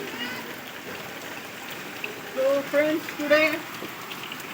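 Steady rain falls in a soft, even hiss, the first shower after many dry days, while someone talks over it with a few brief louder bursts of voice.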